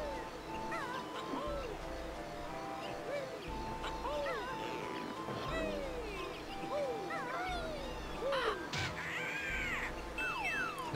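Bird calls during a cutscene in the Banjo-Kazooie video game, a run of chirpy, warbling, quacking tones over a steady low musical hum, repeating across the scene.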